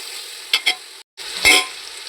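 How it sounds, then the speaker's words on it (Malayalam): Chopped tomatoes hit a pan of well-fried onion for a Palakkad Rawther beef biryani, sizzling loudly as a spoon stirs them in short scraping strokes, close up with no talking. "അതിലേക്ക് എടുത്ത് വെച്ചിട്ടുള്ള 3 തക്കാളി ചേർത്ത് കൊടുക്കുന്നുണ്ട്."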